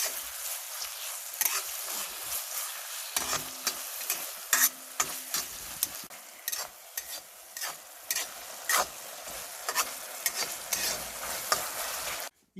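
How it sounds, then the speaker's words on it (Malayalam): Tomatoes sizzle as they are sautéed in a pan for pepper fried chicken, a steady frying hiss broken by frequent scrapes and taps of a spatula, close and fairly quiet. "ഇത് നല്ലോണം വഴറ്റുക."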